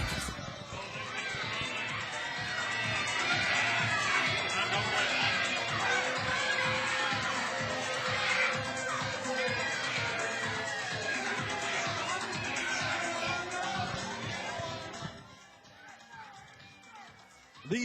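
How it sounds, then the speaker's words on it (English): Wrestling crowd at an NWA Atlanta show reacting to Tommy Too Much, a dense roar of fan noise and jeering that swells and holds for most of the stretch, then drops off near the end. "Listen to this crowd, Big Chad."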